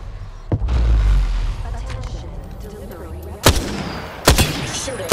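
Gunfire and a booming EMP blast in Apex Legends, with loud sharp shots at the start and two heavy bursts near the end over a rumbling battle bed, with voices in the mix.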